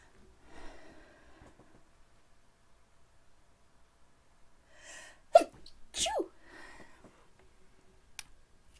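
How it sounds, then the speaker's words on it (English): A single sharp sneeze bursts out in a quiet room around the middle, preceded by soft breathing and faint movement, followed by a brief snort-like sniff and a small click near the end. "Oh, I feel like I need to sneeze."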